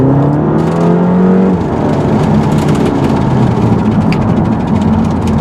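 A 2009 Audi TTS Quattro accelerating hard: a loud, close engine note climbs steadily in pitch, drops as the gear changes, then rises again with steady whooshing road and wind noise. No talking.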